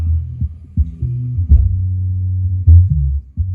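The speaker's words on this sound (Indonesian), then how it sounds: "Ini murni bass ya." Deep, pure bass notes thump from a subwoofer, shifting pitch in a steady low pattern with no vocals or higher instruments.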